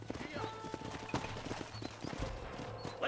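Horses' hooves clip-clop on hard ground in the Red Dead Redemption video game, a few irregular close hoof strikes as the horses slow and stop, under a voice giving orders.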